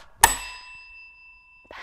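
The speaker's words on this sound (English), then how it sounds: "So now I'm gonna ring this bell." A hand bell is struck once, giving a bright, close ding that rings on in a long, clear, fading tone before a faint rustle at the end.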